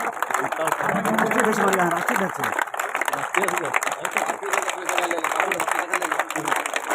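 Sustained applause from an assembled audience greets a visiting guest from Nepal, a steady roar of many hands clapping beneath a loud amplified voice talking throughout.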